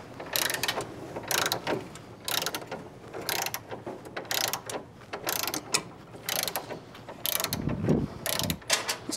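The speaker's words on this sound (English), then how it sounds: "Now, these here in the back, we need to torque these." A torque wrench tightens bolts at the back of a trike, giving bursts of close, sharp ratcheting clicks in quick runs separated by short pauses.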